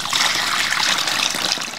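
Water draining out of a portable washing machine, a close, steady trickling and splashing stream that runs continuously and fairly loud.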